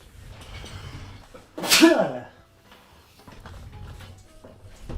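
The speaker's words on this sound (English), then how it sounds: "I sneezed into my hair" One loud, sharp sneeze bursts out of quiet room tone, close and brief, with soft voice-like murmurs and faint handling sounds before and after.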